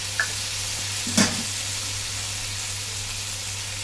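Half a spoon of soy sauce goes into a golden stir-fry in the pan, a steady close sizzle with a brief clink and a hissing flare as the liquid hits.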